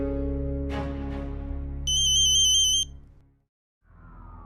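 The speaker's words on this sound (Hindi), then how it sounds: "फोन बज रहा है" An electronic phone ringtone chimes in a steady repeating pattern over a low music bed, then cuts off and the music resumes faintly.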